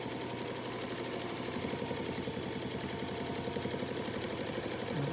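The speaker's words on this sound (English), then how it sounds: "I sew right through it so it doesn't move" A sewing machine stitches steadily through a pleated face mask with a plastic nose wire pinned inside, its fast mechanical chatter running continuously and close up at an even, moderate level.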